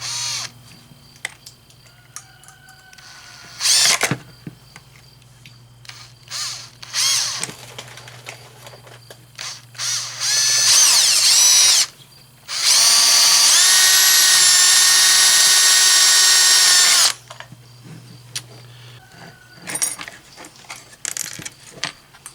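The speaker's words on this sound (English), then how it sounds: "And now I'm gonna drill another hole." A power drill whines in several bursts, a couple brief and one long sustained run, close by, with clicks and handling noises between, drilling rivet holes for a 2020 Ford Transit gas fill door repair.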